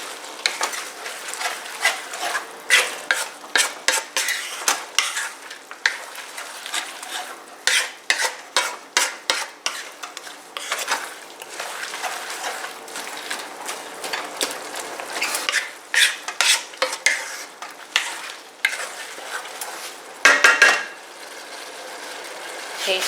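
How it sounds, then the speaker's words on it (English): Pork empanada filling with oyster sauce stirred in a pan, with repeated irregular scraping strokes of a utensil over a faint sizzle and brief pauses between bursts. "Mix it well."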